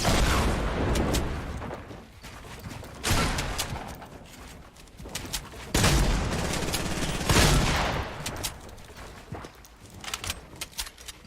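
Shotgun blasts in a video game, loud and close, coming in several separate heavy bursts with short gaps between them, with no talk over them.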